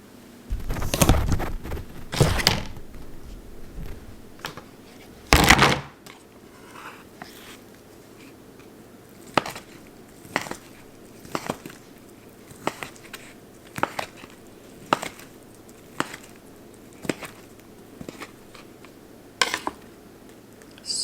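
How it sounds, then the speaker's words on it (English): Knife chopping chicken on a board during meal prep: quiet, sharp taps, a few quick bursts at first, then evenly spaced single chops. "So I'm just gonna get this chopped."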